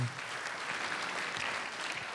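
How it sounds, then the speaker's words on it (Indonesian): Audience applause at a stand-up comedy show, a steady, dense wash of clapping from a crowd, fairly loud and continuous throughout with no speech over it. "dan tepuk tangan"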